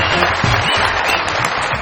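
Studio audience at a comedy talk show applauding to welcome a guest, a dense, loud, continuous wash of clapping that holds steady throughout with a little crowd noise mixed in.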